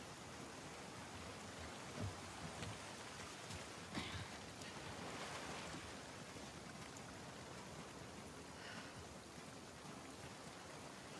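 Rain in the video game The Last of Us Part II falls as a steady, even hiss with a few scattered louder spatters, continuous and soft, with no speech.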